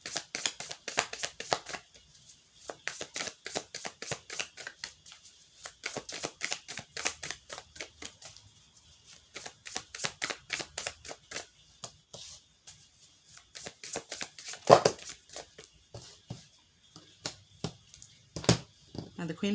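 Tarot cards being shuffled by hand, rapid riffling bursts repeated in steady clusters with short pauses between, close and crisp, with a voice talking at times.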